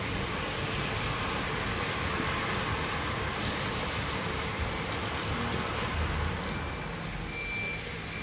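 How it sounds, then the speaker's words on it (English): Heavy rain pours steadily through the night outside a hotel window in southern Portugal, a dense, continuous hiss of drops on surfaces that stays even and constant throughout, with no voices. "I watched the rain from my window. It seemed to pour down all night."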